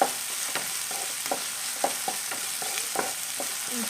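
Onions softening in a frying pan for samosa filling, a steady close sizzle broken by repeated spoon scrapes and stirring clicks at a regular pace, no voices.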